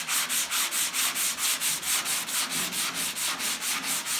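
A DA pad loaded with 80 grit sandpaper rubs across the body of a 1971 Chevelle in steady rhythmic strokes, about four per second, making a close, continuous loud scratchy rasp with no voices.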